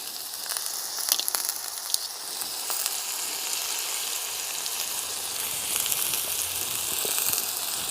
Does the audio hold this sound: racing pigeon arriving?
no